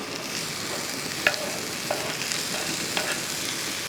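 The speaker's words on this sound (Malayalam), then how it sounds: "ഈ സമയത്ത് നമ്മൾ അരിഞ്ഞു വെച്ചിരിക്കുന്ന തക്കാളിയും കൂടെ അങ്ങോട്ട് ഇട്ട് കൊടുക്കാം" Chopped tomatoes tossed into sautéed onions in a pan for an egg dish, a steady even sizzle with a few faint utensil clicks, close and fairly quiet, no voices.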